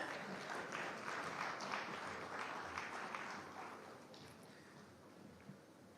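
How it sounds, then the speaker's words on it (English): Faint audience applause for panelists at a business conference on India's growth, sustained clapping that gradually tapers off toward the end. "Ladies and gentlemen, once again, a huge round of applause."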